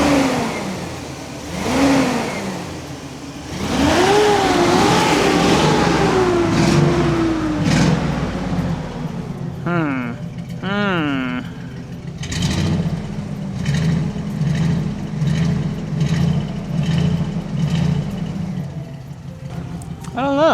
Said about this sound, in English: It's definitely missing on a cylinder